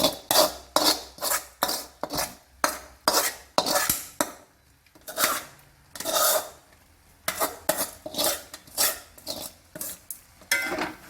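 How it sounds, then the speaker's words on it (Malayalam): A utensil scrapes around a pan of mutton liver roast with fried onions in quick, rhythmic strokes, pausing briefly, then resuming; faint sizzling underneath, no voices. "നല്ലോണം ഇളക്കി കൊടുക്കാം"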